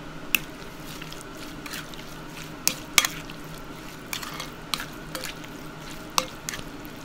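Spoon stirs and mixes Lao mushroom larb with toasted rice, galangal and chili, giving close wet squishy clacks and scrapes at an irregular pace, with soft drips and no talking.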